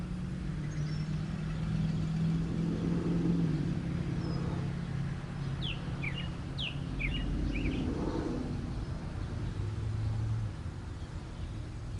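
Several faint bird chirps sound outdoors in a short cluster midway through, set against a constant low rumble of passing traffic and engines in the background.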